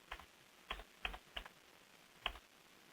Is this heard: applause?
no